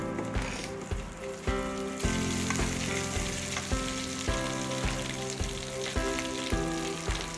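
Garam masala, ginger paste and cumin paste frying in hot oil, a close, steady crackling sizzle with faint rhythmic stirring taps throughout, no voices.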